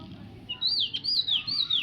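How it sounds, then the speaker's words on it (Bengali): A bird chirps in repeated high, sweeping whistles, clear and fairly close, over a low steady background hum. "ওই দেখো, ওই দেখো, পাখি ডাকছি গো, পাখি ডাকছি গো"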